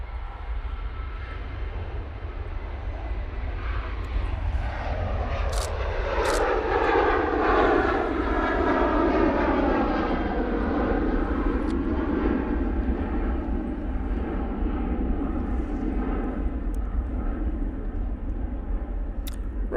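An airliner departing Manchester for Prague rolls and climbs away, engine roar swelling loudly with rising and falling whine tones that sweep past as the jet passes, then settling into a sustained distant rumble.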